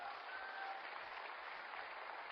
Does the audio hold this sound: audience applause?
yes